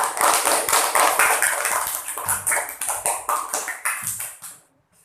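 Students clap together in a classroom, a dense run of hand claps that fades out near the end.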